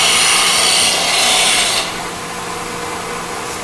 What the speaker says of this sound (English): I'm going to grind enough at the tip so I see what angle I've got.